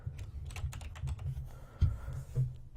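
Keys on a computer keyboard are tapped in a quick, uneven run of soft, close clicks with a few brief pauses, no voices.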